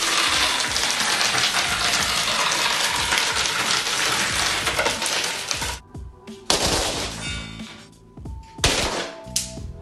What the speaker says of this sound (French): Il casse des nouilles.